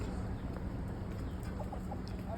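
Chickens cluck softly over a steady outdoor background hum on the Caribbean island of Dominica, with a few short calls scattered through.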